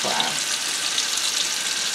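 Steak pieces fry in a pan for garlic butter steak pasta, giving a strong continuous hiss and crackle up close with faint pops, no talk over it.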